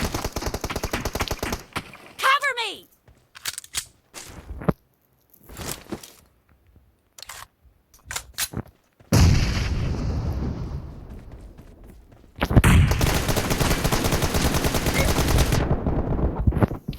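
Gunfire in the mobile battle-royale game PUBG Mobile: bursts of rapid automatic shots and single cracks broken by gaps, then sustained loud firing and a booming blast toward the end.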